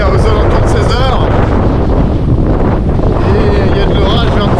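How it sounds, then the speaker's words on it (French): Strong wind in the Pyrenees mountains buffets the microphone as a loud, constant roar through the whole stretch, with faint talk under it. "il y a énormément de vent"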